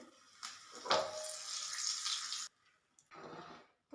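Curry leaves added to hot oil for tempering set off a loud crackling sizzle that cuts off abruptly, then a shorter softer burst follows, close and alone without talk.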